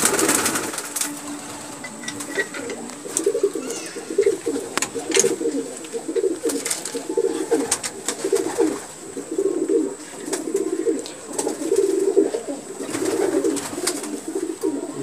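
Ziria pigeons coo in low, repeated throaty calls that roll on steadily throughout, close and fairly loud, with faint wing or cage noises between.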